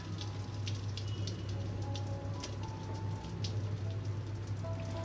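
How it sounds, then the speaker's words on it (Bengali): Hilsa fish pieces rubbed with salt and turmeric frying in smoking hot oil, a quiet continuous crackling sizzle with scattered pops over a low steady hum. "নুন হলুদ মাখানো ইলিশ মাছগুলোকে ভেজে নিই।"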